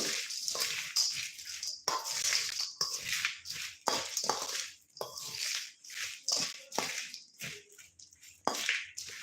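A spoon stirs a dry jhalmuri mix of puffed rice, chanachur, fried snacks and coconut shavings in a bowl, giving close, crisp rustling and scraping bursts in an uneven rhythm.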